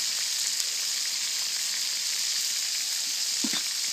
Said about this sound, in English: Cooking the sausage up nicely.